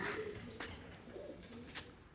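Soft, low cooing from pigeons nearby, a few gentle throaty calls over quiet background noise.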